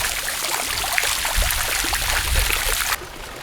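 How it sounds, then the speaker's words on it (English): Water rushes and splashes steadily down a garden waterfall beside a pool, a continuous close trickling flow that drops away abruptly near the end. "Right inside my waterfall"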